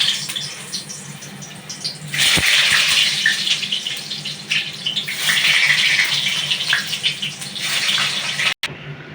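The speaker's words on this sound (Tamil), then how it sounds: "இப்போ பார்த்தீங்கன்னா உருளைக்கிழங்கு நல்லா ஃப்ரை ஆகிடுச்சு." Potato pieces fry in hot oil in a pan for a Kolkata-style mutton kosha with aloo, giving a loud, steady hissing sizzle that surges and fades in waves with a brief cut near the end, no talking.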